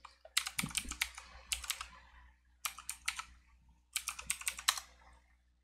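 A password tapped out on a computer keyboard in three quick bursts of close, crisp key clicks separated by short pauses.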